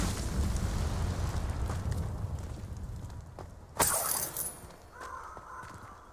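A fire spell, Incendio, cast in the Hogwarts Legacy wizarding video game bursts out as a sudden loud whoosh over a low rumbling ambient bed, then trails off into crackling and a brief tonal shimmer.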